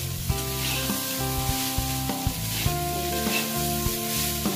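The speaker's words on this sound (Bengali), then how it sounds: "এবার দিয়ে দেবো বাদাম, যে বাদামটা ভেজে রেখেছিলাম, দিয়ে ভালো করে মিশিয়ে নেব।" Fried flattened rice being stirred with roasted peanuts in a pan, giving a steady close sizzle with scraping stir strokes, while sustained tonal music plays underneath throughout.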